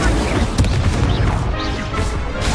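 The Incendio fire spell cast in Hogwarts Legacy during a duelling fight, a loud booming, crashing burst of magical fire with heavy impacts layered over continuous combat noise.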